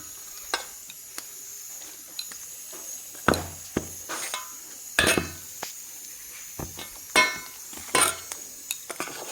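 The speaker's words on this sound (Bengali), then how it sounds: "ম্যাশার দিয়ে নিয়ে আলুটাকে ম্যাশ করে নেব" Boiled potatoes being mashed with a potato masher in a pot, irregular soft thuds and clanks of metal against the pan spaced out over several seconds, fairly quiet with no talking.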